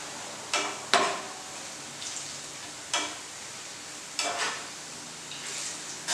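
Onions for biryani sautéing slowly on low heat in a pot: a quiet, steady sizzle with several brisk stirring scrapes of a spoon at irregular intervals.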